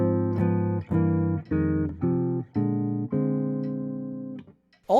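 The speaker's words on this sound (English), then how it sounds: "All it is just the blues scale harmonized using block chords over a 2/5 progression." Jazz guitar lick: the blues scale harmonized in block chords over a ii–V progression. About eight ringing chords are struck in an uneven phrase, the last held longer, clear and close with no talk.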